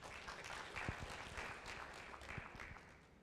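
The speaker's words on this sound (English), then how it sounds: "Ladies and gentlemen, a round of applause." An audience at a power-sector forum breaks into applause, a faint, distant wash of steady clapping from a hall full of people that tapers slightly toward the end.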